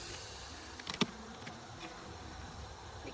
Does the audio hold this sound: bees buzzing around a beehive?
yes